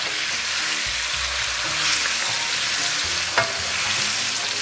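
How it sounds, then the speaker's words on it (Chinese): Pork ribs stir-fried in a wok with dark soy sauce, ginger, Sichuan pepper and star anise powders, giving a steady close crackling sizzle with light scraping of a spatula, no voices. "炒差不多以后，咱们给它稍微来点老抽，来点姜面，来点花椒面，然后来点大料面，再给它简单煸炒一下"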